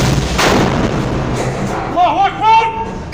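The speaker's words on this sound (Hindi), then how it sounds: "तो कुछ इस तरीके से इजराइल के टैंक को उड़ाया जा रहा है।" An Israeli tank struck by a Yasin 105 rocket: a loud blast with a rumbling explosion tail, followed by distorted shouting voices.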